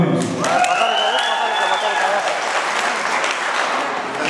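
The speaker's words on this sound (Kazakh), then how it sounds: "Бір шапалақ ойнаймыз." An audience claps at a festive party game staged as a beauty-pageant finale, a dense, steady round of applause lasting several seconds, with a bright tonal sound and some voices above it.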